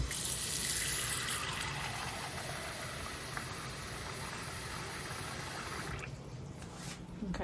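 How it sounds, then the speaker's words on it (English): Tap water runs steadily into a sink while rice is rinsed, a continuous close splashing hiss that stops near the end. "I'm just rinsing everything out."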